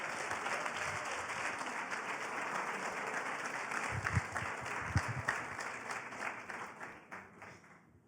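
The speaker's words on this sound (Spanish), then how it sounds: "Aplaude al Señor, que es maravilloso." A church congregation applauds during a sermon, a steady wash of many hands clapping that sounds somewhat distant and soft, fading slightly toward the end.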